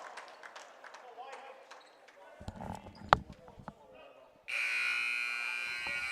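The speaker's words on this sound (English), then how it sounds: "Substitutions on an extra long buzzer." A long electronic buzzer sounds at a girls high school basketball game, cutting in loud and steady for the last couple of seconds after a stretch of ball bounces, squeaks and crowd murmur in a gym.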